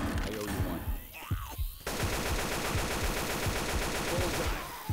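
Left 4 Dead 2 gameplay gunfire, loud and close: dense rapid bursts that pause briefly near the second mark, then a sustained stream of automatic fire through the rest.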